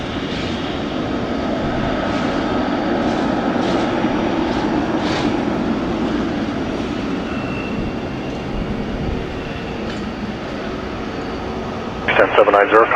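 A PIA Boeing 777 on its takeoff roll at Toronto Pearson gives a loud, sustained jet-engine roar that holds steady throughout, heard from nearby. A voice speaks over the engine noise.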